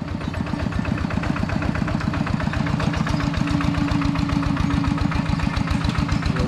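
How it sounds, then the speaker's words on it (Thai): A rice-field tractor (walking tractor used for ploughing) in a rural Lao village engine chugs steadily and loudly with a fast regular firing rhythm throughout, close by, no talk. "หมู่บ้านนี้โซล่าก็จะใช้รถนี่นะรถไถนา"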